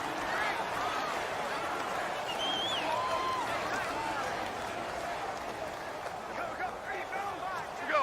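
A stadium crowd in the Madden 19 football game, home fans roaring during a Super Bowl 53 Patriots vs. Rams matchup: a steady, distant crowd wash runs quietly under play-by-play commentary voices.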